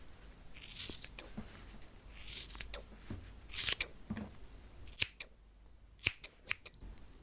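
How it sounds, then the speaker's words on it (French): Scissors cutting hair for ASMR, close crisp snips coming in a loose rhythm, with sharper isolated clicks toward the end, intimate and quiet. "le bruit des ciseaux qui coupent les cheveux,"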